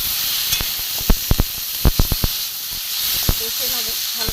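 Turmeric, chopped green chili and red chili powder fry in a pan for a green pea curry, giving a steady close hiss broken by sharp crackles and pops.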